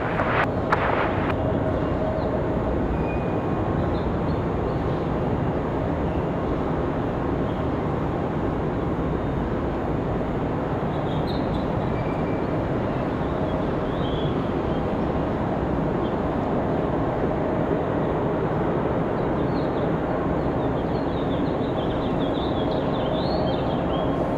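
Frontier airliner taking off at Raleigh-Durham International, a steady broadband engine roar that stays loud and constant throughout, with no voices over it.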